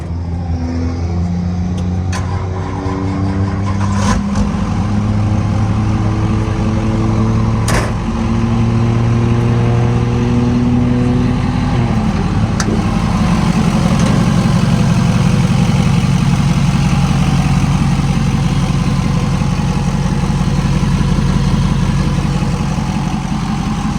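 Loud 1972 truck with a twin-turbo LB7 Duramax diesel, set up for dirt drags, running nearby: a heavy, rumbling idle with rising revs that settles into a deep, steady roar for the rest of the stretch, with no voices.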